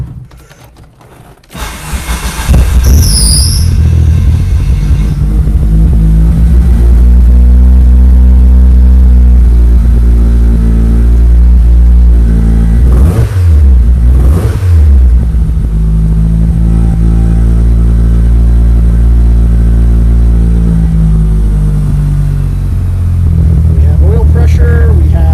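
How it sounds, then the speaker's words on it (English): A 1998 Mitsubishi Eclipse GSX with a twin disc clutch starting up and idling loudly and close, with a steady engine drone and a clackety rattle throughout, plus brief revs. "It also has this clackety-clack sound that is clutch related."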